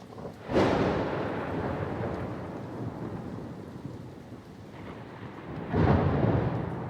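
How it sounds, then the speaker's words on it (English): Alpine thunderstorm in the mountains: a sharp crack of thunder opens into a long rolling rumble, then a second loud clap rolls in near the end, over a constant wash of rain and wind. "A storm is brewing."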